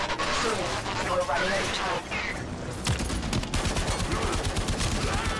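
Rapid gunfire from a gun in the shooter game Warframe, a dense burst of loud shots followed by quicker rattling fire, close and continuous, with a voice talking over part of it.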